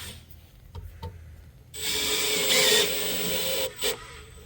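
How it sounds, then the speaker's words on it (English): A steady raspy palm sander drone on wood cabinet parts starts partway in and runs loud and continuous, with brief scraping bursts before and after. "we're just going to start palm sanding for probably about 2 hours"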